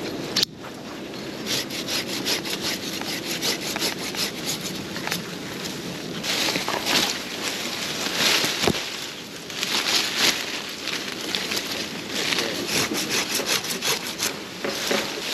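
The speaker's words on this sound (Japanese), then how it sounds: "ズバズバ切っていきます。" Hand saw cutting through tree branches during pruning of a tall garden tree in Tokyo, repeated rasping back-and-forth strokes in bursts with brief pauses, close and fairly loud.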